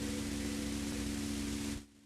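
Loud maximum distortion effect from a loop station, a dense, steady wall of hiss and buzz with a low hum that holds for almost two seconds and then cuts off abruptly.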